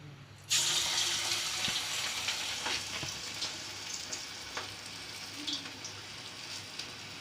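A hand-flattened onion vada drops into hot oil with a sudden loud hiss, then settles into a steady, close sizzle that eases slightly over the following seconds.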